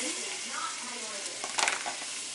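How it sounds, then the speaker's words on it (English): Shrimp dropped into a hot pan with fresh herbs sizzle steadily, a broad close hiss with a brief clatter of stirring near the end. "Now add the shrimp in"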